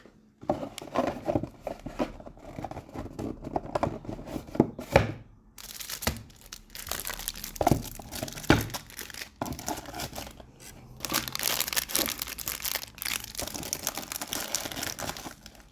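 Pokémon card booster packs, Evolving Skies and Brilliant Stars, being torn open and handled, with crisp foil wrapper crinkling and tearing in irregular bursts, close and fairly loud, and brief quieter pauses between packs.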